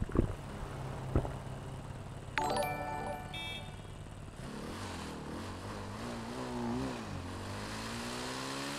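Synthetic motorcycle engine sound in GTA 5 revving and droning, rising and falling in pitch with gear-like shifts, after a couple of sharp thumps and a brief electronic chime.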